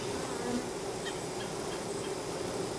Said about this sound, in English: Okay, I see bees.